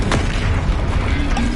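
Bombarda, the explosion spell in Hogwarts Legacy, goes off with a heavy booming blast and a sharp crack at the start, then a dense low rumble that carries on to the end.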